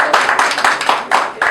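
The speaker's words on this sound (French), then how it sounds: "applaudissez pour lui encore s'il vous plaît" An audience at a taxi-moto football tournament prize ceremony claps for the winner of a TVS motorbike: dense, loud, rhythmic clapping that comes in quick bursts, fairly close, with no voices over it.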